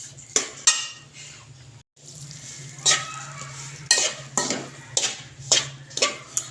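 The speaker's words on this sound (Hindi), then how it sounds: "हमने घी डाल के इसको अच्छे से मिक्स करना है" A spoon scraping and clinking against a pan as atta halwa with desi ghee is stirred, giving irregular sharp strokes over a faint steady hum, with no talking.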